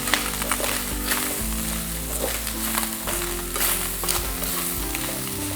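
Ginger, lime leaves, bay leaves and galangal frying in a pan while being stirred, a loud continuous sizzle with scraping stirs, backed by steady background music and no voices.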